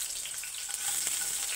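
Garlic dropped into hot oil with chillies gives a bright, steady hiss of frying that swells slightly partway through, close and continuous with no one talking.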